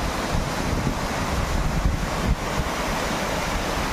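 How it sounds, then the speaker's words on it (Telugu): Kothapalli waterfall in Telangana roars as a loud, steady rush of falling water, mixed with wind buffeting the microphone, with no talking. "Kothapalli water fall."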